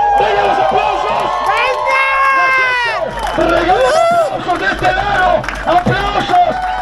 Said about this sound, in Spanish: ¡Aplausos para nuestros corredores!